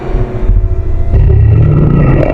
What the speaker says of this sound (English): The guardian roared. The sound tore through the mountains, echoing like a storm.